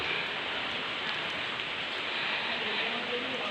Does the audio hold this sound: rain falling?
yes